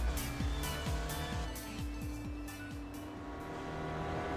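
Spec Racer Ford race car in iRacing lapping Okayama International Circuit, its engine droning steadily with repeated sharp pitch drops as gears change, close and continuous with no talk.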